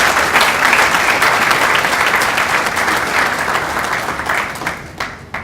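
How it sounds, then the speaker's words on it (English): A large audience at a university matriculation ceremony breaks into loud, dense applause that holds steady before tapering off at the end. "Let's give ourselves a round of applause for that"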